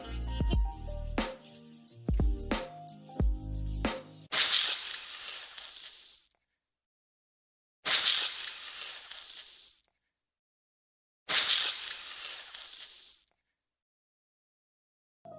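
A snake hisses in three separate sharp, breathy bursts, each fading out and followed by silence, after a short musical jingle.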